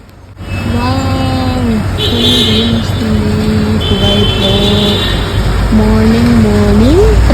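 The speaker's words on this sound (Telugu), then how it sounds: "మార్నింగ్ ట్రాఫిక్ జామ్ అయిపోయింది మా ఏరియాలో" A morning traffic jam fills a dark, rainy residential street, with a loud, constant roar of vehicles and rain. Drawn-out horn-like tones rise over it again and again.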